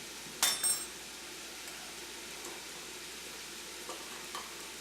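A spoon clinks against a pot, then stirs roast beef, basil and rosemary soup with cayenne, a soft sizzling hiss running underneath with a few faint scrapes, close and fairly quiet.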